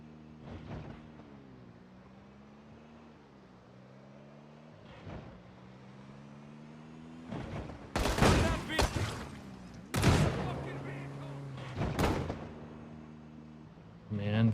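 Rifle fire from bandits with 8x-scoped rifles in the zombie survival game Project Zomboid: a few loud, sharp cracks and bursts in the second half, over a steady low engine-like hum.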